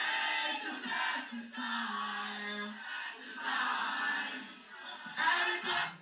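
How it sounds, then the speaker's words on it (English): A concert crowd sings along to a song, a loud massed chorus of voices rising and swelling in waves, filling the space without pause. "The smile on his face then when the crowd sang that."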